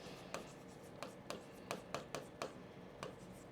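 A pen writes a word by hand on paper, producing faint, close scratching strokes with regular small ticks as each letter is formed, set against a low steady background hiss.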